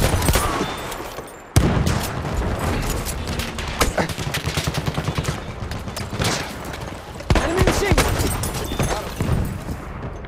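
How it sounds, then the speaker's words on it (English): Machine gun fire in the video game Battlefield 1 crackles in dense, rapid bursts with sharp booming shots in between, loud and close throughout, amid chaotic battle noise. "Machine gun right there!"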